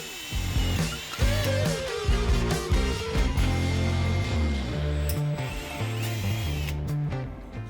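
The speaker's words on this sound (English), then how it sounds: "I clamped the parts and got to drilling" A drill works through wheel center cap retaining rings for a V8-swapped BMW E28 clamped in a lathe chuck. It gives a loud, continuous mechanical whine with shifting tones and no talk.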